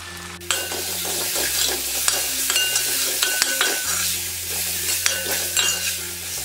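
A spoon stirs chili, coriander and garam masala powders through hot oil in a pan for crab curry, with steady close scraping over a continuous sizzle and a low hum underneath.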